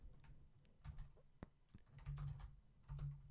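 Typing on a computer keyboard, entering a number into JavaScript code, with soft, quiet key taps in small irregular bursts and a few sharper clicks among them, and no voices.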